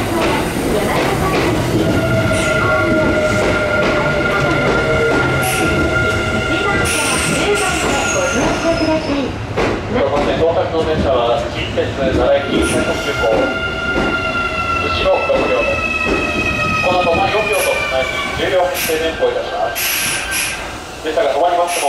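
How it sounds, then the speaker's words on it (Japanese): A train moves through Hanshin Amagasaki station during the evening rush, with wheels squealing in drawn-out metallic tones, a loud rolling rumble and a horn. Station announcements play over it. "電車が動きます。 ご注意ください。"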